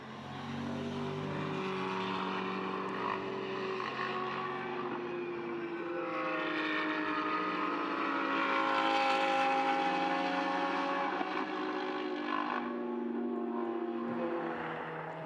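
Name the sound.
Trofeo GTS race cars: Porsche flat-six, Ferrari V8, Lamborghini V10 engines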